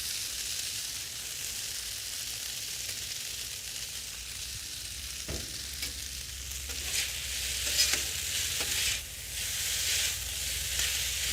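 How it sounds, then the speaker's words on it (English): Chicken and noodle stir fry frying on a griddle, a continuous bright sizzle with occasional scraping and stirring knocks, fairly close, no talking. "It's gonna be a big, big stir fry, Jeff."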